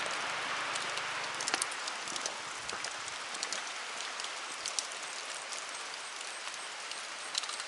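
Steady rain falls outdoors with a dense, hissing wash and scattered close drops pattering on a surface, continuous and fairly loud throughout with no voices.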